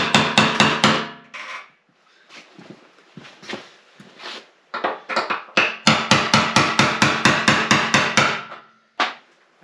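Tapping on a new gas tank clasp for a Ford Econoline van as it locks into place: bursts of quick, close, sharp knocks, with a fast run at the start, scattered taps in the middle and a long steady series near the end.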